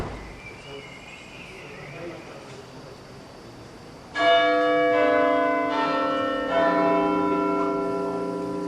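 Great Tom, the 5.5-ton bell in the central tower of Lincoln Cathedral, strikes with a loud ringing tone that hangs and rings on, then sounds again, over faint outdoor ambience.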